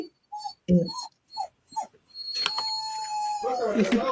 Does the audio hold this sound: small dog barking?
yes